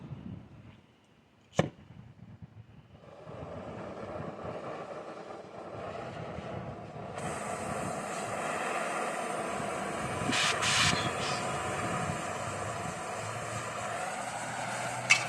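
An oxygen-acetylene cutting torch lighting with a sharp pop, then burning in a steady, loud hissing roar that swells and holds, ending with another brief pop, with no talking.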